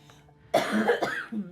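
A single close cough, a sharp burst followed by a brief rough tail and a smaller second push.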